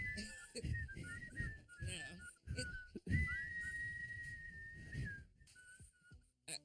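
A person whistles a melody in clear sustained notes, with low voices and background noise underneath.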